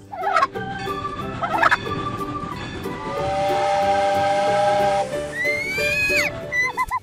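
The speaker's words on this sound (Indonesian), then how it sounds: "kalkun" A turkey gobbling, several loud rapid rattling gobble bursts near the start, then a long sustained whistling, hissing tone and a sweeping call toward the end, close and prominent.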